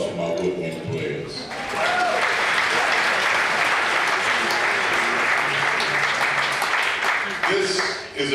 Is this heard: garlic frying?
no